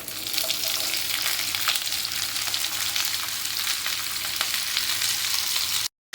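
Thin, long-cut potato strips fry in oil in a pan for a potato fry side, a bright steady hiss with crisp crackles close by, continuing evenly before cutting off abruptly near the end, no voices.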